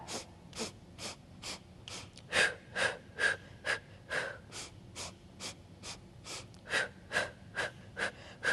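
Deep, rhythmic breathing during a Pilates ab exercise, about a dozen close, audible inhales and exhales in steady succession, some sharper and gasp-like, with no talking.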